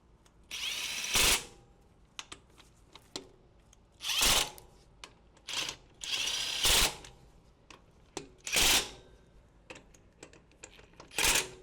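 Milwaukee power tool at its lowest torque setting, repeated short loud bursts of whirring and clacking separated by quieter pauses of rattling and handling, close up.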